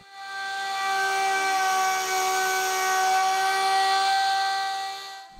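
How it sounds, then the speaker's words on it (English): An electric sander wet-sanding a large bubinga board with 1000-grit paper runs with a steady, loud whine layered over a wet hiss, holding constant for several seconds before cutting off. "Begin sanding and keep the machine moving. Do not bear down on the sander."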